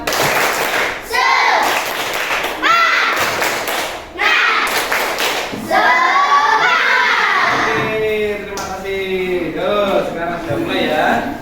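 A class of children performing a rhythmic clapping chant together, sharp clap bursts in a set pattern alternating with loud chanted voices, then shouting and talk as it winds down.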